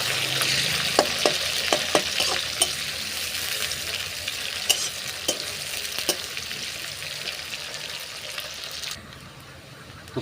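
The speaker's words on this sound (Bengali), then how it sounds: "তো পেঁয়াজটাকে আমরা একটু লাল করে ভেজে নেবো।" Onions frying in a pan with black cardamom, cinnamon sticks and cloves for a chicken yogurt curry, a steady loud sizzle with repeated sharp scrapes of stirring, the sizzle dropping off abruptly near the end.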